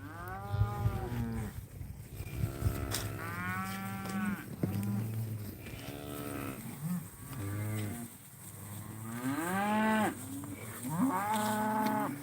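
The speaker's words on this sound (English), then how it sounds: "these are meat cattle." Young beef cattle calves mooing repeatedly, several overlapping drawn-out bawls from nearby animals over a steady low background rumble.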